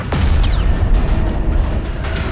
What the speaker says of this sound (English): That explosion came from the propulsion deck